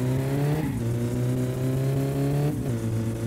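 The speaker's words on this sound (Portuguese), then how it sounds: "O carro tá com barulho bem alto, que tá com escapamento direto" A car with a straight-pipe exhaust in My Summer Car drones loudly and constantly, its harsh engine note dropping in pitch at two gear changes, close and continuous with no talk.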